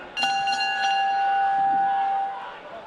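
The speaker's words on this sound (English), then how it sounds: "The bell comes." A boxing round bell is struck once or twice with a sharp attack, leaving a clear ringing tone that hangs for about two seconds before it fades.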